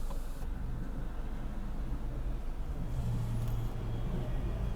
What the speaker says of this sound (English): We got the 18 bus passing us.